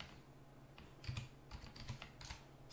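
A computer keyboard in Zorin OS, typed on to enter a shell command, gives quiet, uneven clusters of key clicks at close range, with no voices over them.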